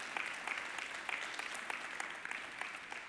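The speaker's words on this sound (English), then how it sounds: "can we just clap your hands and thank God for that gift all over the room today?" Church congregation at a Christmas service applauding across the room, a steady dense patter of hand claps with a few sharper individual claps standing out, moderately distant and without speech.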